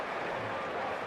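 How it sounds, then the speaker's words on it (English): Cricket crowd roaring and applauding after a batting pair complete a quick second run under pressure, a dense, continuous wash of cheering and clapping throughout. "Have to listen to the noise of that crowd"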